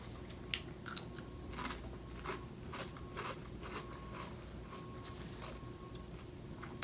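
Crisp bites and crunchy chewing of Lay's cucumber-flavour potato chips, a steady run of close crackling crunches with no talking.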